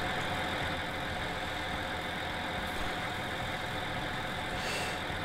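Engine of a big tractor, such as a Fendt or New Holland T8, in Farming Simulator 19, humming at a steady idle throughout, continuous and fairly close with no talk over it.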